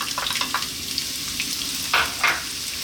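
Onion frying in a little reduced oil in a pan, a steady close sizzle with soft stirring scrapes and two brief louder bursts near the end, no talking.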